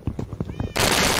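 A Minecraft cat gives a short, rising meow over a few soft rhythmic thumps, then a sudden loud wash of harsh noise cuts in and continues to the end.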